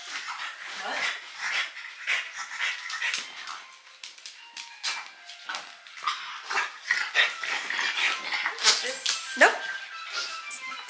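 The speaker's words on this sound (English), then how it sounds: "look at our new dog" A newly adopted dog whimpers and gives a few short barks at close range in a home, its whines scattered through steady excited talk from several people.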